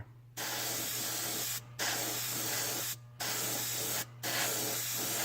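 An airbrush sprays pearl white paint onto a shad crankbait in steady hissing bursts, with three short pauses between them, close and fairly loud over a low constant hum.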